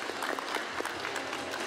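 Audience applause fills a hospital hall during the unveiling ceremony of public art in a new medical lobby, a dense, steady clapping from a crowd that continues evenly throughout.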